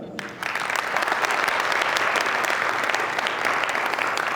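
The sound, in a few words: audience applause welcoming a guest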